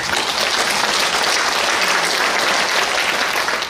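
Church congregation applauding during a Korean worship service, a steady, dense wash of many hands clapping together throughout, even in loudness with no talk over it.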